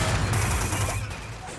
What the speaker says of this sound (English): distant explosions, and the piercing sound of bullets flying by around our heads